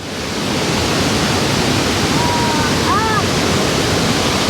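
A waterfall roars as a dense, continuous rush of water that stays loud and steady throughout, with a brief faint whistle-like chirp partway through.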